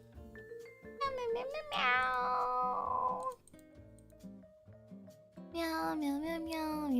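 A cat meows repeatedly indoors, with drawn-out, wavering cries that are loud and close, broken by short pauses and a quieter stretch before the calls return strongly.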